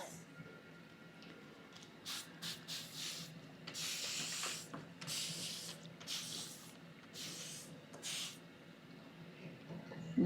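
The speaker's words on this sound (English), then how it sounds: "So first I'm going to mist this." A spray bottle mists a dollar store plant pot before decoupage, giving several short, soft hissing bursts of varying length against a quiet room background.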